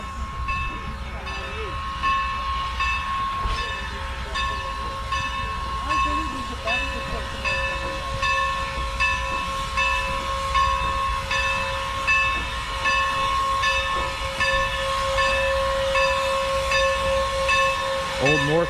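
Steam train at Strasburg Railroad easing in to couple up, with steady rumble, hissing steam and tonal whistle-like hums under occasional talk, mechanical clanks building as it nears.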